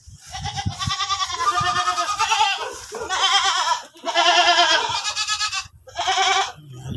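Several goats on a farm bleat loudly and repeatedly in overlapping calls, long wavering cries with short gaps, close to the recorder.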